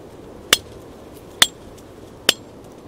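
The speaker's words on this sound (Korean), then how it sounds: "건기에 바짝 말라버린 나무를 날이 둔한 칼로 열심히 베어내고 있었는데요" A dull knife chops dry, drought-parched wood in an open field, giving three sharp, evenly spaced woody strikes about a second apart over a quiet background.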